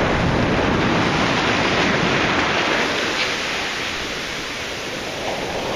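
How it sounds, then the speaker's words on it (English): Ocean waves wash up a beach and slide back off in a steady, loud broadband roar that eases slightly toward the end, with no voices. "I'll let the waves run back off."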